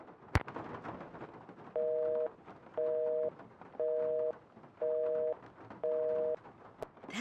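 Dead telephone line in a Nancy Drew video game, Legend of the Crystal Skull, a steady pulsing busy tone repeating five times in even beeps, with a sharp click at the start and end.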